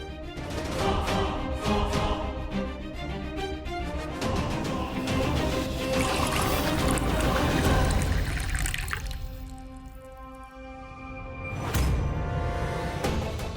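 Water is poured into a glass, a soft, trickling pour that runs for several seconds at low volume against a background of musical tones, with no speech.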